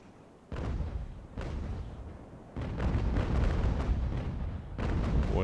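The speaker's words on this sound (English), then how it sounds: "we're firing grape shot" Deep booming broadsides of ship cannons firing grape shot in the naval battle game Ultimate Admiral: Age of Sail, three or four heavy blasts rolling into one another, loud and close.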